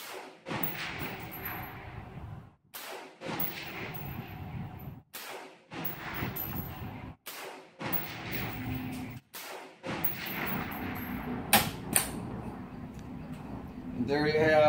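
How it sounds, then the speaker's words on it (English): AR rifle rounds fired one at a time in a pneumatic test fixture that recoils the gun, giving about six sharp, spaced reports separated by short silences, with a voice heard between the shots. "there you have 5 or 6 rounds that we just shot"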